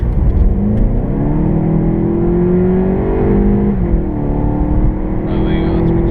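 A Volkswagen Golf GTE plug-in hybrid hatchback accelerates hard, its engine note climbing steadily in pitch through a gear before a brief shift dip, loud and continuous from inside the car.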